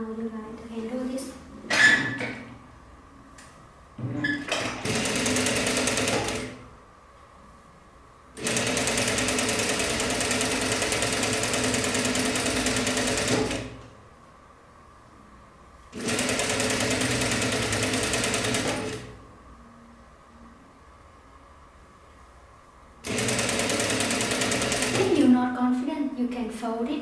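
A sewing machine stitches a straight seam on folded fabric in four long bursts of rapid, buzzing needle rattle separated by quiet pauses, loud and close, with someone talking briefly between runs.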